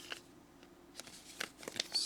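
Facom 841 scissors being handled, giving a few quiet, irregular metallic clicks and snips spread across a couple of seconds with no talking.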